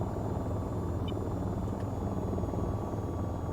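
An AH-94 attack helicopter cruising through a mountain pass in the flight game VTOL VR, a steady, dense rotor and engine rumble filling the whole stretch without a break, close and constant, with no voices.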